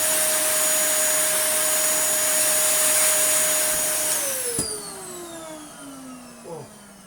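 A worn Dyson DC08 vacuum cleaner with poor suction runs with a loud, steady, high-pitched whine, then is switched off and winds down with a falling tone, followed by a faint knock.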